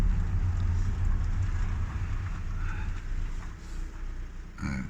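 A bus rumbles past on a narrow mountain gorge road at the Gorges de Galamus, a heavy low engine drone that is loud and close at first and then eases off.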